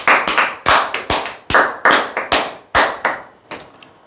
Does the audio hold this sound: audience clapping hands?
yes